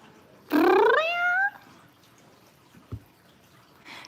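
A cat gives one clear, loud, drawn-out meow, then the room goes quiet apart from a faint drip.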